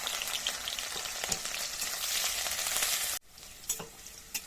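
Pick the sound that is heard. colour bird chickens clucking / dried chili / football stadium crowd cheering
dried chili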